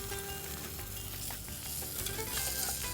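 A fish fillet pan-roasting in hot grease in a frying pan, giving a continuous soft sizzle and crackle with occasional clinks, fairly quiet and steady throughout.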